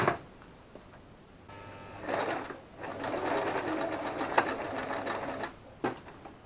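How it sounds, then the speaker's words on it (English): A sewing machine stitches tape binding onto a fabric peg bag in two close runs of rapid whirring, the first brief and the second longer, with soft handling clicks between and after. "sewing the other half of the tape binding on the other part of the peg bag"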